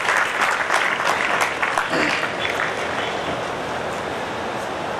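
Audience applause at a public gathering in Nizamabad: a dense, steady wash of many hands clapping close and loud, easing slightly in the final seconds without stopping.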